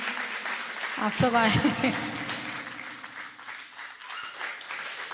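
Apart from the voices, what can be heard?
audience applause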